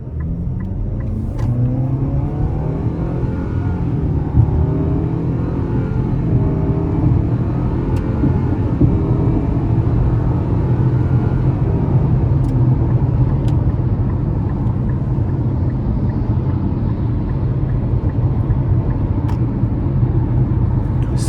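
A 2025 Nissan Kicks SV with a 2.0-liter four-cylinder engine accelerates hard up to speed in sport mode, its steady engine drone and road rumble building continuously from inside the cabin.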